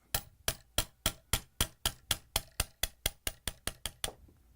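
A hammer strikes a punch to drive out the pin of a Frigidaire/Electrolux crusher blade, about fifteen sharp metallic blows in a steady, slightly quickening rhythm, close and clear.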